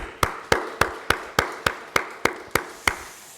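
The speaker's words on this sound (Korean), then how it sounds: "우리 하나님께 감사의 박수." A church congregation at a Sunday service claps in unison, about ten sharp, evenly spaced claps in a steady rhythm, each ringing briefly in the room before the next.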